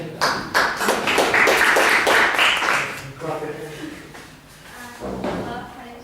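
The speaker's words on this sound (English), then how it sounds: "Clap for me." A small audience at a Toastmasters club meeting in Almaty claps in a short burst of overlapping hand claps that fades after a few seconds, followed by a speaking voice.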